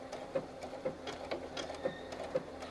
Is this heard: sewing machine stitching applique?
yes